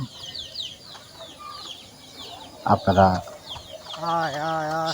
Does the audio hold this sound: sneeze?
no